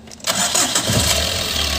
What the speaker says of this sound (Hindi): वापस चालू करके दिखाता हूँ